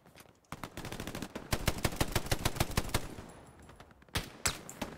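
Bursts of machine gun fire in the WWII shooter Hell Let Loose, rapid rattling volleys with a brief pause, then a few more close, loud shots near the end.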